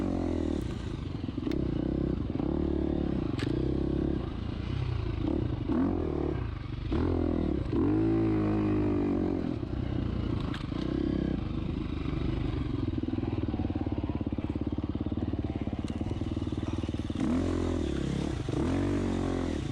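A dirt bike races a cross-country hill climb at full throttle, its engine repeatedly revving and dropping as it accelerates over rough ground, with clatter and scraping mixed in, loud and close throughout.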